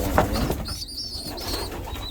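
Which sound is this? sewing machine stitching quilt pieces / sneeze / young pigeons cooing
young pigeons cooing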